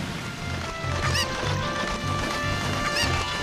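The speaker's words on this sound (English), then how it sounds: "Okay, I'm going to get the chicken." A chicken in Zelda: Ocarina of Time clucks and squawks in repeated short bursts over game background sound, the calls coming at a steady, choppy rhythm.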